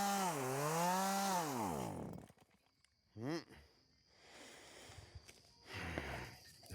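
A chainsaw revs loudly up and down during yard work, then cuts out, followed by short bursts and quieter rasping and scraping.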